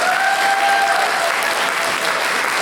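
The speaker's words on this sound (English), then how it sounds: "Can we give a nice round of applause," Applause for a church receiving an award at a spiritual awards ceremony in Wales in 2020: a loud, continuous crowd clapping with a faint high whistle-like tone briefly audible underneath.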